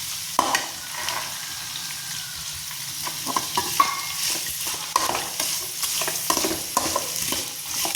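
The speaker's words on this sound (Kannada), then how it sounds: "ಈರುಳ್ಳಿ ಕೆಂಪಾಗೋ ಥರ ಚೆನ್ನಾಗಿ ಹುರಿದು" Onions fry in a pan until browned, a steady close sizzle broken by repeated scraping stirs and small clatters of a spoon throughout.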